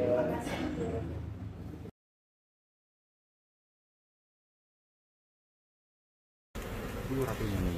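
Bees buzz around a hive holding a large queen bee; the dense droning fills two short stretches separated by a long silent gap, with voices mixed in.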